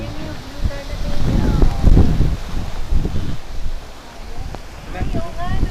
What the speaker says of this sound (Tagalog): Malakas lang hangin.